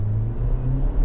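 A 2024 Jeep Wrangler Rubicon X two-door with a turbo four and ZF 8-speed automatic pulls hard under acceleration, a steady low engine drone rising slightly in pitch inside the cabin, with no talking.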